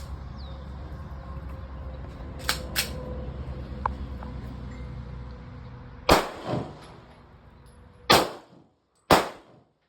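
Glock 22 Gen 5 .40 caliber pistol firing at targets outdoors: several sharp, loud gunshots, two fainter early pops then three strong cracks spaced a second or two apart, over low background rumble.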